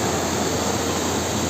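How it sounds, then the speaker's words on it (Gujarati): Clear water flowing steadily at Jatashankar near Junagadh, a continuous broadband rush that stays even and fairly loud throughout, with no voices. "તમે જોઈ શકો છો અહીંયા કેવું મસ્ત પાણી, ચોખ્ખું પાણી આવી રહ્યું છે"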